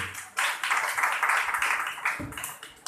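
Congregation clapping in praise at a church service, a dense burst of many hands starting sharply and carrying steadily for a few seconds, fairly close and loud.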